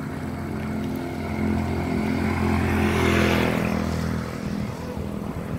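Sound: motorboat engine approaching at a beach

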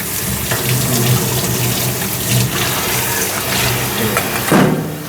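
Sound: rinsing food under a running tap to remove salt and baking soda

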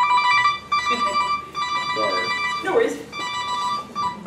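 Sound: cell phone ringtone going off

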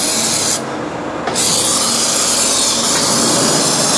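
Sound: spraying lubricant on Fiat Ducato motorhome brackets

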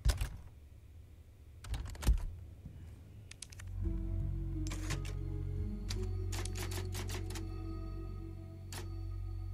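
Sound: typewriter in the video game Resident Evil 4

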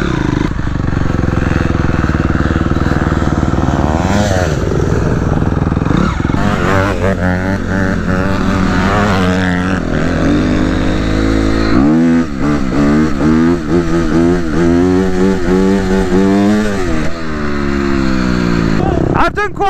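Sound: Honda CRF250R dirt bike riding

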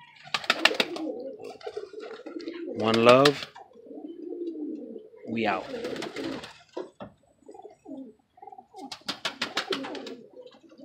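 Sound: birds calling nearby

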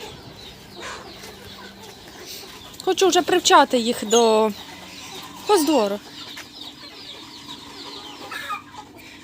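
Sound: young roosters clucking

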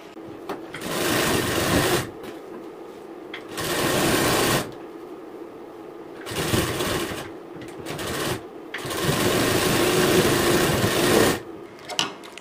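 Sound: sewing machine stitching the side fitting seam of a blouse

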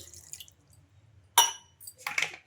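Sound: water poured into chutney in grinder jar

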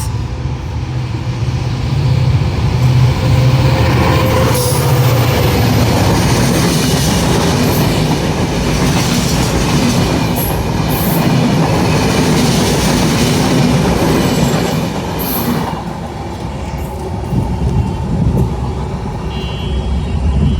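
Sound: intercity express train passing at speed

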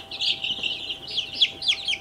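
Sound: barred rock chicks peeping

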